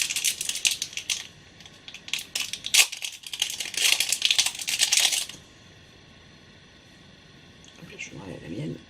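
Double paper wrapping around a ring from an online-shopping haul is torn open in close, crisp crinkling bursts for about five seconds; quiet follows, then a voice speaks briefly at the end.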